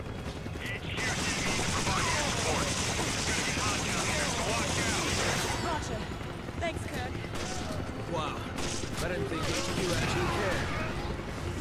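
Dense, continuous gunfire and blasts in Resident Evil 5, a loud chaotic barrage with metallic clatter and a voice talking over it.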